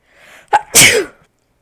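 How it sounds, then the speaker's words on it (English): A single sharp sneeze, loud and close, with a quick intake of breath before it and the burst trailing off after about half a second, then silence. "hold on, I have to sneeze."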